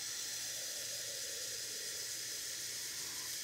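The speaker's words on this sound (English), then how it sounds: "Now we need some liquid to build the stock. Water, seven cups. Fill her right up." Tap water steadily runs into a pot to make stock, a soft, continuous hiss with no break from start to finish and no talking.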